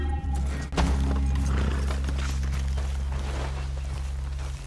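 Horses walking at a steady clip-clop in the Red Dead Redemption video game, hoof falls repeating under a constant low rumble of game ambience, with an occasional faint whinny.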